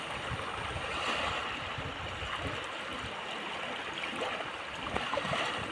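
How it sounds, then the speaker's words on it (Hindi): Fast-flowing river water rushes in a steady, broadband wash that carries on without a break, with small surges in level and no voices over it. "आज का पानी इतना तेज है ना"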